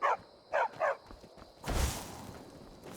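A dog barks three times in quick succession in the game Skyrim, sharp and close, followed by a burst of rushing noise.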